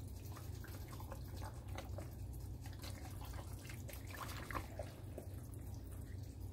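A chicken pot pie mixture is stirred in a crock pot, giving a steady wet, sloshing swish with small dripping and trickling sounds that continue evenly, close up, with no talking.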